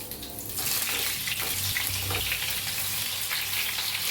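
Stuffed ridge gourd drops into hot oil with cumin and curry leaves, setting off a loud, close, continuous hissing sizzle that holds steady throughout, with no voices.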